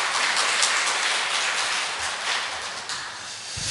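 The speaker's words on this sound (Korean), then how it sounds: "다시 한번 격려의 박수 부탁드립니다" Church congregation applauding after a young member's musical offering at a Sunday service, an even wash of clapping held for a few seconds at moderate level, with no voices over it.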